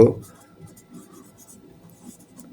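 A pen writes out a sixth-grade math solution to a ratio problem. After a brief knock at the start, faint, soft scratching strokes follow.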